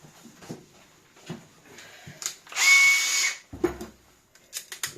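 A handheld power drill whirs loudly in a single sustained burst of a bit under a second, set among quieter shed workshop clatter and brief knocks before and after.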